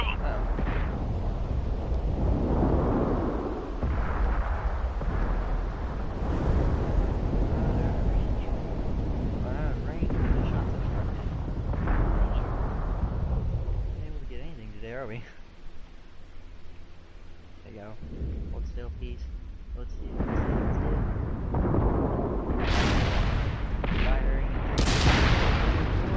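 Tank cannon fire and explosions from the World of Tanks video game on Xbox One. Booming blasts and rumbling impacts repeat throughout, loud and dense, with a player talking excitedly over them.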